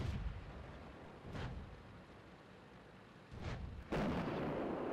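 Artillery shells firing and bursting in World of Tanks, with a couple of muffled booms followed by a sharper, louder blast at the end, heard without speech.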